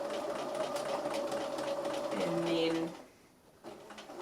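A sewing machine runs a back stitch along the dart of a plush bunny (Simplicity 8044): a steady, close motor whine with rapid needle chatter that stops abruptly near the end, with a voice talking over it.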